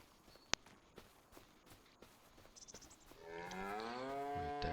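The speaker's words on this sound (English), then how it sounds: "And up here we have some cows, I believe." Cows in the Farming Simulator 25 game: after a few scattered thumps and footsteps, one long, loud, close moo swells in the last seconds and carries on to the end, with no talking.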